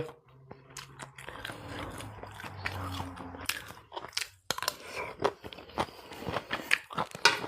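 People eating papaya salad and sausages, with close crunchy bites and chewing, scattered crisp clicks and crunches at irregular intervals.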